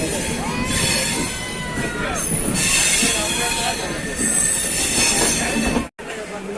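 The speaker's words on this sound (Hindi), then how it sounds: "देखिए ट्रेन हमारी भागलपुर से डिपार्टेड हो रही है, बिल्कुल ऑन टाइम" The 13410 Kiul-Malda intercity train pulls out of Bhagalpur station from platform 1. Loud, steady wheel squeal and rolling rail noise run throughout, and no one speaks.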